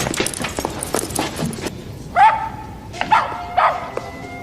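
A dog in The Mask (1994) barks several times, a few sharp yaps rising above busy movie background sound and following a burst of louder action noise.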